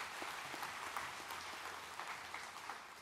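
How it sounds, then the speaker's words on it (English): Steady applause from a commencement ceremony audience honoring the class of 2026, a dense, even patter of many hands held at a moderate, fairly distant level for about three seconds with no voices on top. "let's give them a round of applause"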